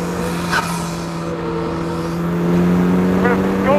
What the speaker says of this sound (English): This is a Civic Type R motor.